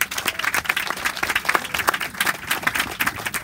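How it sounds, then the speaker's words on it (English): Applause from a crowd at a groundbreaking ceremony for a district recreation center, steady dense clapping filling the whole stretch at moderate loudness with no talk over it. "So let's give a big round of applause just for the project."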